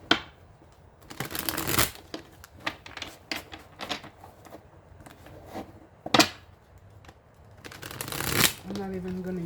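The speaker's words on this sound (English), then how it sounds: "I don't even know why I started shuffling these first." Tarot cards shuffled by hand in repeated crisp riffling bursts, close and fairly loud, with a few soft taps between and a voice starting at the very end.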